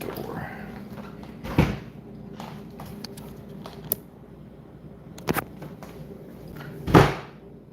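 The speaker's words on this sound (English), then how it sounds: "apparently that door don't want to be closed" A door in a house is pushed shut but won't stay closed, giving several separate knocks and thuds spread over a few seconds, with handling noises between them and no talking.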